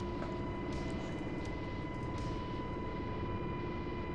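A UH-60 helicopter engine in a flight simulator game gives a steady, dense turbine roar with a constant high whine and low rotor rumble, uniform and unbroken throughout, with no speech.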